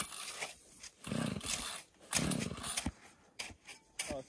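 A gas-powered ice fishing auger on a frozen lake in Alaska revs in loud bursts, with its engine roaring up and dropping back several times, close to the microphone.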